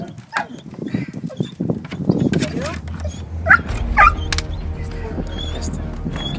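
During a rescue of a neglected dog, yips, short barks and whimpers break out amid people talking and shuffling nearby.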